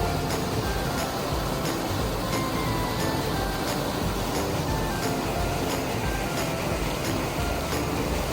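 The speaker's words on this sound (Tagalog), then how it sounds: "nakaka-relax ang tunog ng tubig" Water at a lake park runs in a constant, broad rushing wash, steady and fairly loud throughout, with no voices over it.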